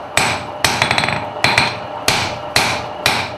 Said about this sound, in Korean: 또다시 셀 수 없을 만큼 많은 망치질이 시작되는데